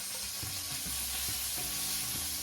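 Pieces of rohu fish fry in a pan over medium heat, giving a constant loud sizzling hiss with small pops and spatters and no one speaking.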